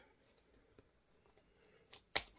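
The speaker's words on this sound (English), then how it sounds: "I'm going to try to use my scissors because my wire cutters are just" Scissors snip through floral wire while a deco mesh wreath with greenery is assembled: one sharp, close cut near the end, preceded by a quieter rustle and a few faint handling ticks.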